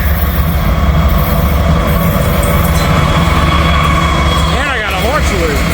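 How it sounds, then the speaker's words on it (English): A heavy freight train with helper locomotives and distributed power units at full throttle rolls past close by on a steep hill grade, a loud steady rumble of wheels and cars with clattering and a brief wheel squeal near the end. "That train."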